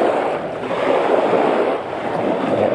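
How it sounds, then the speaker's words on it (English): Sea surf washing in over rocks along a salty shoreline, a steady loud broadband rush of churning water with gentle swells in intensity, mixed with some wind buffeting the microphone. "Look at this, the water's really coming in."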